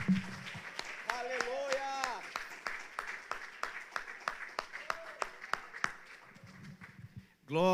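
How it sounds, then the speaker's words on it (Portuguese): A church congregation claps hands in a steady, loud rhythm, sharp repeated claps over several seconds, with a voice speaking and singing over them. "Use as suas mãos para aplaudir bem forte ao nome do Senhor."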